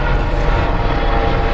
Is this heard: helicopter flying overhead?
yes